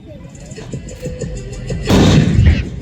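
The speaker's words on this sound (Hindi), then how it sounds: "ये देखिए एक के बाद एक विस्फोट हो रहा है।" Sharp gunshot-like bangs from an army demonstration pop in a loose sequence, followed by a heavy booming blast near the end, with voices faintly underneath.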